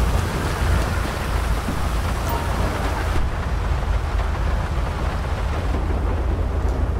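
Heavy rain pours down steadily in GTA V, a broad, continuous hiss of drops drumming on surfaces with a low rumbling undertone, loud and unbroken throughout with no voices.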